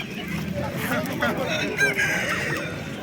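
A rooster crows amid the hubbub of a busy poultry market in Fergana, with clucking fowl and people talking close by.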